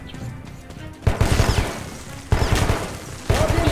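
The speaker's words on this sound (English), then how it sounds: "Already shooting at him." Gunfire in the video game Metro 2033: three loud, sharp bursts of shots at roughly one-second intervals, each trailing into a noisy decay, with a quieter rumbling backdrop between them.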